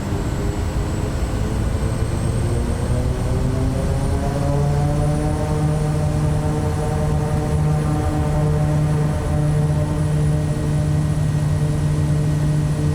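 An SWS Kodiak single-engine turboprop in Microsoft Flight Simulator 2024 takes off, its propeller drone loud and continuous, the engine tone climbing steadily in pitch as power builds and the aircraft accelerates down the runway, with no talking.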